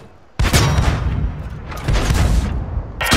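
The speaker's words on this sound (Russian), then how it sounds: "Попали в гусеницу! Удачный выстрел, брат!" Loud tank cannon shots striking a tank's track in an armored combat video game, with two heavy blasts and rumbling impacts close together, then a third starting at the end.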